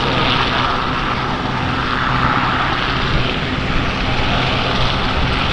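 A Sea King helicopter flies at the Midlands Air Festival, producing a loud, steady rotor-and-engine roar that stays constant and close throughout with no talk.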